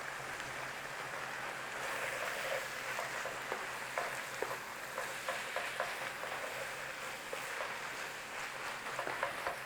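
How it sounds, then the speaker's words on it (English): Flour and minced beef cook in a pan for individual beef pies, producing a soft, continuous crackling sizzle with small spitting pops scattered across the whole stretch, without any talk. "what you're doing is cooking off the rawness of the flour"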